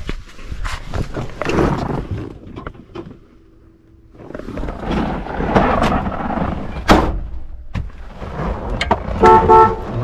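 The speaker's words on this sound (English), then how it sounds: "Horn works." A 1966 Chevelle convertible's horn honks in a few short blasts among engine rumble and scattered knocks and movement sounds in the car, with no talk.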